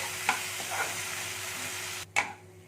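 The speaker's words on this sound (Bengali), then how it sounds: "এবার এই মুগ ডালটাকে আমি একটু ভেজে নেবো হালকা ভাজবো কিন্তু বেশি ভাজবো না" Mung dal lightly fries in a pan with a soft, low sizzle, punctuated by a few sharp scraping clicks of stirring, the last louder one followed by a quieter tail.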